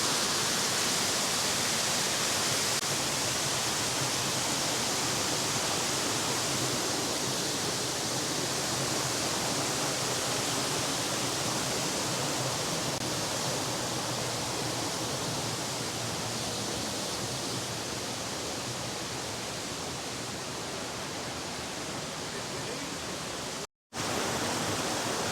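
Central Cascade waterfall in the Watkins Glen gorge roars in a steady, dense wash of falling water, loud and unbroken apart from one brief cut near the end.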